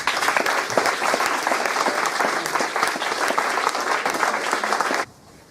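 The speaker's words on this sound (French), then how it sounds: "vous demander une dernière fois de les applaudir bien fort" Loud sustained applause from delegates at a francophone Model United Nations closing in Santiago, even dense clapping that cuts off abruptly near the end, leaving quiet room tone.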